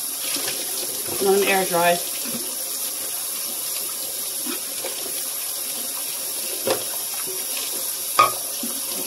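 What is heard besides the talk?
tap water running while washing dishes in sink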